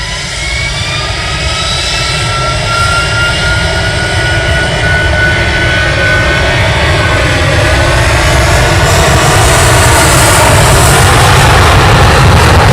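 Jet airliner engines roar loudly and continuously during the takeoff roll at Manchester Airport. The broad roar swells steadily, with whining tones gliding upward underneath, and no voices are heard.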